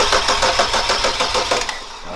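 BMW 335i with an N54 engine converted to a single turbo, cranking over with a fast, rhythmic chugging of the starter and engine, loud and close with no voices over it.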